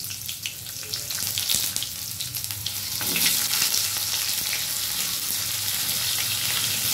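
Onions frying in hot oil for chilli chicken hiss and sizzle steadily, with stirring and scraping in the pan and a louder burst of sizzle midway.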